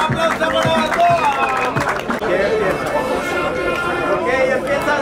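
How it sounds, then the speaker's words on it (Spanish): Crowd at a Miami hip hop freestyle battle claps and cheers after the round, a dense steady roar of applause mixed with shouting and chatter throughout. "un aplauso por la batalla"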